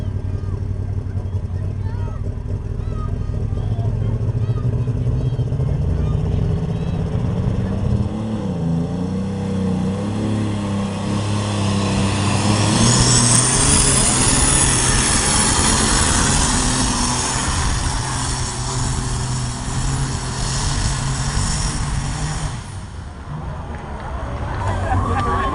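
A pulling tractor named the Red Menace makes its run at a county fair truck and tractor pull, its engine a sustained loud roar that swells and then drops off, with an announcer talking over it.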